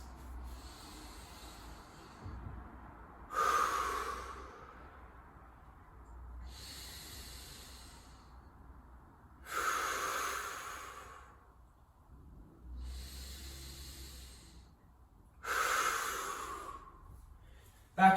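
Deep, slow breaths held in a side plank during a core workout, with three long hissing exhales spaced evenly through otherwise quiet air, each a soft rushing swell near the microphone.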